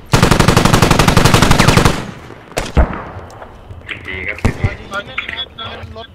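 Rapid automatic gunfire in the military shooter Squad, a loud dense burst of shots for about two seconds, followed by scattered single shots and distant impacts with voices murmuring over the tail.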